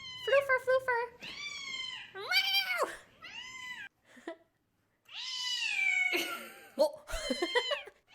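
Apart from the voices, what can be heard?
cat meowing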